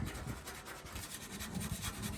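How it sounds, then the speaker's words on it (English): Sandpaper rubs lightly over surface rust on the bedside of a Squarebody Chevy K10 truck, a faint, steady rapid scratching with a rhythmic back-and-forth texture, with no voices. "take our sandpaper and just lightly start sanding away all the areas of surface"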